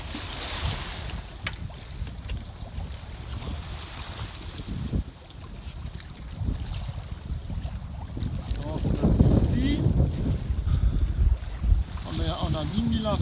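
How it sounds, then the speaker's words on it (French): Gusty wind buffets a sailboat at sea among mountainous coastal terrain, a steady roar of wind noise and water rising into stronger gusts in the second half, with faint voices now and then. "du vent très rafaleux,"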